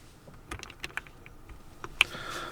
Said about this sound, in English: Gently push it in and place the keycap back.